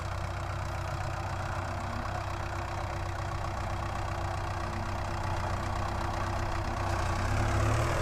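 A modified MTZ tractor fitted with a Mercedes engine idles steadily, a constant low diesel rumble with a faint knocking pulse, close and unbroken, swelling slightly toward the end.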